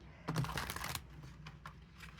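A big, thick, heavy tarot deck shuffled by hand, with a short burst of riffling card flutter followed by a few soft taps, quiet and close.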